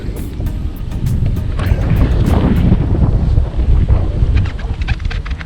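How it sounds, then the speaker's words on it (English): Strong wind buffets the microphone outdoors near water during a new kayak set-up, a loud low rumble with gusts rising and falling throughout and light clicks over it. "I would say the wind, if you can hear me, not too bad of a situation there."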